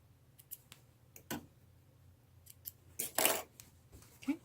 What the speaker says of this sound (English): I'm going to just trim this up a little bit better